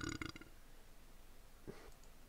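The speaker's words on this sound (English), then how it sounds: "sorry for the burp" A single low burp from a person who has just eaten, short and close at the start, followed by quiet room noise and a faint brief sound near the end.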